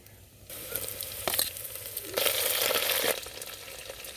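Onion pieces and curry leaves sizzle in hot oil in a pan for fish curry, a steady close frying hiss that swells as more goes in, with stirring scrapes and short bursts of louder crackle.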